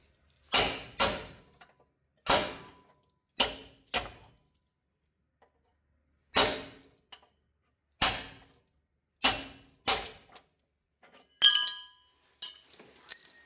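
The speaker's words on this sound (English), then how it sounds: "We'll go ahead and knock out these old roll pins." Old roll pins are hammered out of a John Deere 7000 planter, giving sharp metallic strikes in irregular single and paired hits with quiet gaps between, ending in a few lighter clinks.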